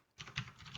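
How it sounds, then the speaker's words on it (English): Soft patter of keys on a computer keyboard as a command is typed at a Windows command prompt, a few light close taps in under a second. "here I'm typing the command MySQL hyphen version"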